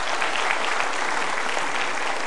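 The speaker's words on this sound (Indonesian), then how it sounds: "Kita berikan tepuk tangan." Loud, dense applause from a large studio audience at an Indonesian motivational talk show, a steady wash of clapping with no voices over it.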